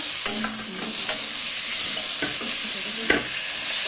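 Turmeric powder and tomatoes go into a hot frying pan, raising a loud, close sizzle broken by several sharp stirring scrapes and clinks, with no voices.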